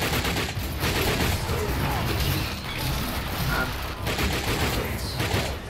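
Rapid SMG gunfire in The Darkness II, dense bursts of shots with mechanical clatter running loud and nearly continuous, and a voice occasionally heard beneath.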